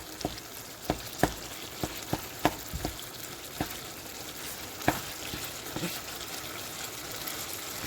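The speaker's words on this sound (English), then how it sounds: "you want to make sure you're chopping the meat as you're cooking it" Ground meat for lasagna frying in a pan, a steady sizzle broken by a series of sharp knocks and scrapes as it is chopped up, close and moderately loud with no talking.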